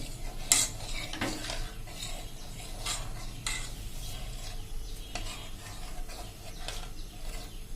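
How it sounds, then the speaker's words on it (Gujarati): Cream being stirred continuously over a full flame to make ghee in a pressure cooker: a spoon scrapes and taps the metal pot in an irregular rhythm over a steady low bubbling sizzle. "ફૂલ ફ્લેમ ઉપર કન્ટિન્યુ હલાવતા રહેશું।"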